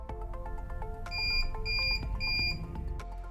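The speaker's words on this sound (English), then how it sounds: "press and hold the reset button for 5 seconds until you hear 3 long beeps" Three long, even electronic beeps from a Yale Libi digital lever lock during a factory reset, sounding in steady succession over a quiet musical background.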